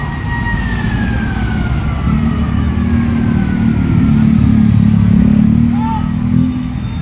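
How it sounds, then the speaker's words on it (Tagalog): Fire truck siren wailing at an emergency response in Quezon City, a long sliding tone over heavy, loud road and engine rumble. Traffic noise dominates, and the siren sits fairly distant within it. "yung bumbero na yan, yung may turret"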